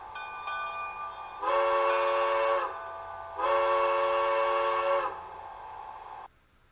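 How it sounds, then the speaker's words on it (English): Two long steam whistle blasts from a DCC sound decoder in a Bachmann 2-4-2T G-scale model locomotive, each lasting over a second with a short gap between, loud and clear over a faint background hum. "I've settled on whistle number 3 and bell number 4."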